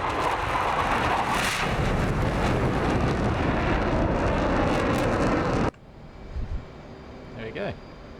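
F/A-18C Hornet jet engine roaring in DCS World, a loud, steady broadband rumble that cuts off abruptly to a much quieter hum; a voice speaks faintly under the engine noise.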